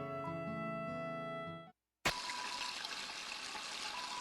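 Toilet water running in the video game Deltarune, heard as a steady, fairly loud broadband rush that starts abruptly after a short silence and keeps going without a break, following a stretch of tonal game music.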